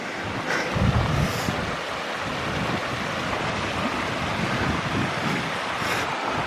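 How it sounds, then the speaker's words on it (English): A small creek rushes steadily through a mountain forest near Park City, Utah, a loud continuous wash of water with some wind buffeting the microphone. "there is a small creek over here which is making a lot of noise"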